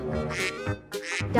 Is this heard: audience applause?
no